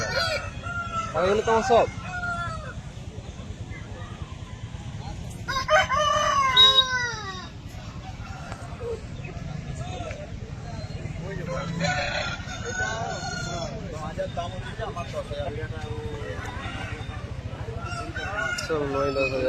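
Roosters crowing and chickens clucking at a chicken market with a red hen among them, several loud crows breaking out in separate bursts over steady clucking, with brief talk nearby.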